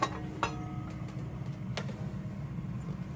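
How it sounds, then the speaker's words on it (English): A few light clinks and knocks as a ceramic mug is placed inside a microwave and its door handled, over a low steady hum, fairly close and quiet. "let's pop open the microwave here, slap this mug up in there,"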